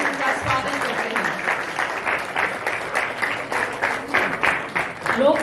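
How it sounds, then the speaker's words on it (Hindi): An audience at a Delhi award ceremony for disabled honorees claps steadily to welcome chief guest Dharmendra Pradhan, a dense, continuous round of applause with some voices mixed in. "तालियों की गड़गड़ाहट से हम उनका स्वागत करते हैं।"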